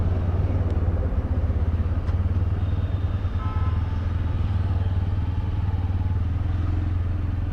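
A Bajaj Pulsar N125 motorcycle engine runs at a steady idle, a low throbbing putter with light mechanical clatter, close and even throughout, no one speaking.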